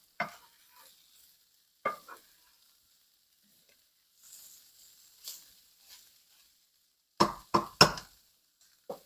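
Cooked ground beef and salt-and-pepper seasoned potatoes stirred in a pan for a homemade hamburger hash, with a few scattered scraping strokes over a faint sizzle, ending in a burst of quick, close clatters.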